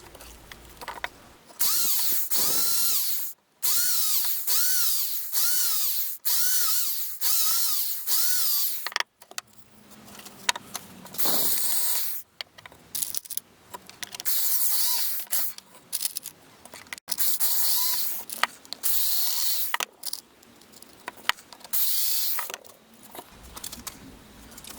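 A power screwdriver drives screws into a wood block, a jig for sawing small logs on a benchtop bandsaw, in repeated whirring bursts with brief pauses and ratcheting clicks between screws.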